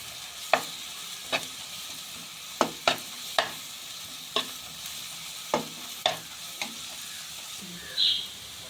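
Masala paste for fish pollichathu frying in a pan under a soft constant sizzle, punctuated by sharp scraping clicks of a spoon stirring against the pan at irregular intervals.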